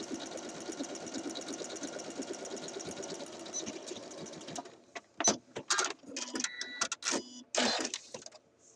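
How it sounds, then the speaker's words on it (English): Sewing machine stitching a quarter inch from the raw edge of a shirt dress cuff, a fast, even, close mechanical whir for about four seconds, then stops, followed by scattered clicks and handling knocks. "I'm sewing 1/4 of an inch from the raw edge of my cuff"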